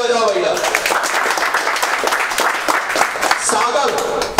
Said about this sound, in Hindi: हेलो इनके लिए जोरदार ताली बजाओ भैया।